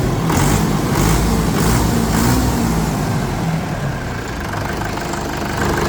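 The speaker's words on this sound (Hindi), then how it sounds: "आवाज़ वगैरह सब कुछ ट्रैक्टर की मुलायम हो चुकी है जी" A tractor engine idles steadily nearby, a low rhythmic chugging that stays even and loud throughout.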